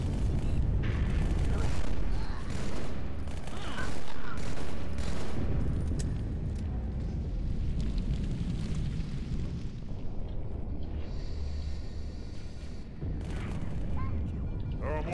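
Halo 2 video game battle with rapid bursts of gunfire and booming explosions, dense and continuous across the scene, with voices heard over the shooting.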